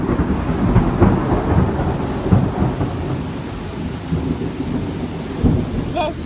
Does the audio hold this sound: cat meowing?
no